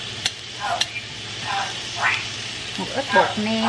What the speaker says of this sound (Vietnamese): Bỏ xíu dầu vô xong rồi xào hành trước